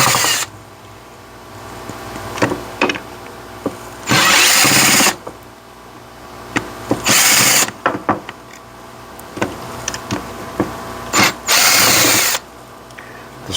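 Cordless power driver spinning T20 Torx screws out of a Ford 6.0 diesel FICM circuit board, several loud whirring bursts of a few seconds each separated by quieter gaps with small clicks and handling noises.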